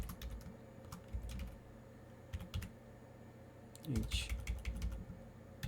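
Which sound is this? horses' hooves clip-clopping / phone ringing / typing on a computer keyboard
typing on a computer keyboard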